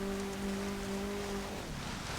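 Rain in the racing game The Crew 2, a steady broadband hiss of falling rain with a low engine-like hum holding underneath before shifting pitch partway through.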